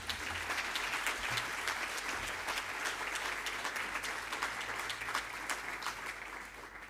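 Sustained audience applause fills a hall at the WCED 2024 NSC awards ceremony, a dense steady wash of many hands clapping for about seven seconds with no voices over it.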